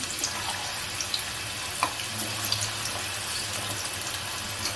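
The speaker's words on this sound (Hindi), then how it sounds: "ये सारे आलू मैंने इसमें डाल दिए हैं और इनको भी मुश्किल से आधा मिनट लगेगा फ्राई होने में क्योंकि हमारा तेल अच्छे से गर्म है" Potatoes frying in well-heated oil for a besan, whole onion and capsicum dish, giving a dense, even hiss with faint crackles and one or two soft knocks, close up and unbroken by speech.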